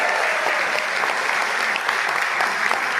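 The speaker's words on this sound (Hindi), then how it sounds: "वाह वाह, ठोका ताली।" Audience applause at a humorous Hindi poetry recital, dense continuous clapping from a seated crowd that holds steady and fairly loud across the whole stretch.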